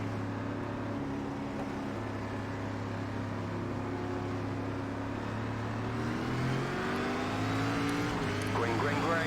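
SRX race cars restarting under green at Indianapolis Raceway Park oval in the iRacing simulator: a steady, droning multi-car engine roar that swells and climbs in pitch near the end as the field accelerates.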